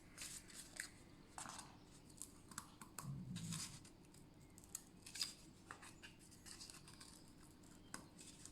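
Scissors snip through thick cardboard in a quiet craft setting, giving a run of faint, irregular crisp cuts and scrapes up close.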